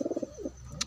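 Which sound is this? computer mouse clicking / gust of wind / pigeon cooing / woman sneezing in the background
pigeon cooing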